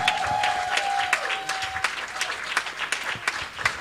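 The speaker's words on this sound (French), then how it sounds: "Acclamons pour maman." Church congregation clapping and cheering in applause for a mother during a Sunday thanksgiving service, steady dense clapping throughout with a sustained tone fading early on.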